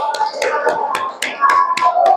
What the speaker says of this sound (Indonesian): coba tepuk tangan untuk kelompok 1